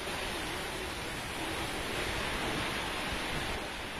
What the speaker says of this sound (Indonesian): Hujan deras disertai angin menerjang kawasan Terminal Arjosari Kota Malang.